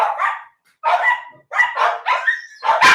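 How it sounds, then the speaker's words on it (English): Several dogs barking in loud, repeated bursts indoors, triggered by someone at the door, with short yips between volleys and a brief pause in the middle. "These are my dogs."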